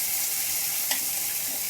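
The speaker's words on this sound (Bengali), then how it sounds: "পেঁয়াজ রসুনটা তেলের মধ্যে একটু ভেজে নিচ্ছি।" Chopped onion and garlic frying in hot oil, a continuous close hiss of sizzling with one faint stir or tap partway through, no voices.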